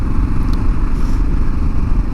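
A 2022 Kawasaki KLR 650 motorcycle runs on the road, its single-cylinder engine a steady close thrum under rushing wind, with a couple of faint ticks.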